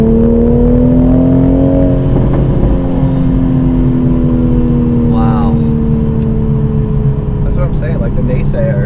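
A 2020 Toyota Supra on the road, its engine a loud steady drone with smoothly rising and falling tones as it accelerates, with people talking over it inside the cabin.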